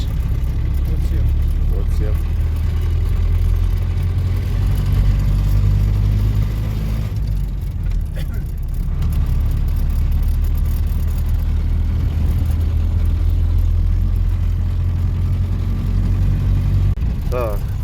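A car drives along a road toward a sand and gravel quarry, its engine a steady, loud low rumble that runs the whole way through, with a short dip midway and voices talking over it.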